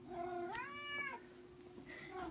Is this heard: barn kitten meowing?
yes